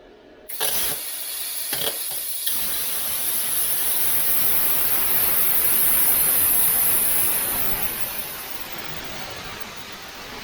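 Vevor Cut 50 plasma cutter slicing metal on a 230-volt supply, a few clicks and bumps as the torch starts, then a steady loud hiss that holds for several seconds before easing slightly, with no voices.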